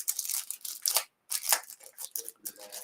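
Scissors snip through craft paper for journal tags, a close, crisp series of quick cutting strokes with brief pauses between them.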